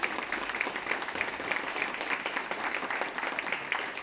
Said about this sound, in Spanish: nuevamente pedimos un aplauso para todos los expositores que nos han acompañado el día de hoy